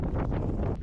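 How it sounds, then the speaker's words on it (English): Strong wind buffets the microphone in a short, loud, rumbling gust outdoors during magnet fishing in a windstorm. "It's so windy here."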